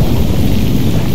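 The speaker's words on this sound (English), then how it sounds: "this louder thunder is like so loud" Loud, continuous rumbling thunder with a rain-like wash, heard in the Roblox horror game Doors, filling the whole short stretch at high volume with no talk.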